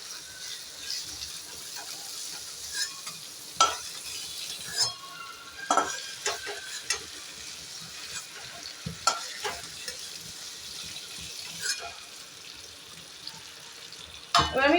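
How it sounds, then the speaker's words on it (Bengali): Prawns frying in a pan for potol chingri bata, a soft steady sizzle punctuated by scattered utensil clinks and scrapes against the pan, close but fairly quiet. "আমার চিংড়ি মাছগুলো ভাজা হয়ে গেছে, এবার আমি চিংড়ি মাছগুলোকে তুলে নেব।"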